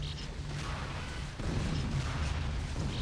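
A tank being destroyed in a video game battle, heard as a dense rumbling burst of gunfire and explosions that swells to a heavier boom halfway through and keeps roaring.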